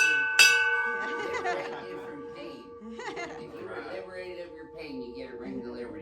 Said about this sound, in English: we want you guys to ring this bell behind me here